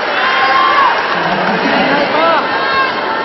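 Loud crowd cheering and shouting fills a volleyball arena during a collegiate match, a dense steady roar of many voices with whoops rising over it throughout.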